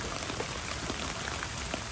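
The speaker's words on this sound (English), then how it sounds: "the rain has slowed down considerably, but it's still working its way off." Steady rain patters on a gutter guard, a dense even hiss with scattered close drops, continuous and moderately loud with no voices.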